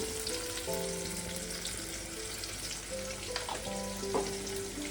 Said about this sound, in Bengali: পেঁয়াজটা বেরেস্তা করে নেব।